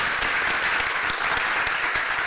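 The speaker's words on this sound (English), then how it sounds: "a round of applause for Mark and all involved" A room full of people applauds Mark Setrakian at the end of a conversation event about body sculpture, a steady wash of clapping that is fairly soft and distant.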